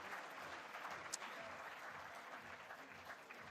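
Faint, steady applause from an audience at a business conference session on eco-conscious business, clapping for guest speakers, an even wash of hands heard at a distance and sustained throughout.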